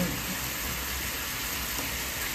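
Food frying in a pan in a home kitchen, a steady bright crackling sizzle held at close range for a couple of seconds, faint and unbroken.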